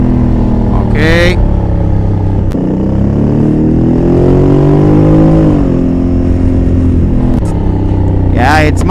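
A 2021 Honda Africa Twin with a DCT gearbox on a race track, its engine loud and close throughout with rising revs and quick automatic gear changes, a rider's voice cutting in briefly over the drone.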